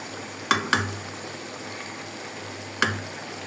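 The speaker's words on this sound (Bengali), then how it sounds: "ভালো করে কষে নেব।" Beef sautéing in a pan gives a steady close sizzle, broken by a few sharp spoon knocks against the pan, two near the start and one later, with no voices.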